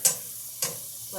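Butter melting in a hot, otherwise dry pan gives a soft continuous sizzle with two sharp hissing bursts about half a second apart, close and moderately quiet, with no talking.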